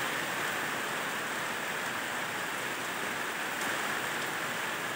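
Heavy rain falls during the rainy season on a mountainside hut, making a dense, unbroken hiss of downpour that stays even and moderately quiet from start to finish.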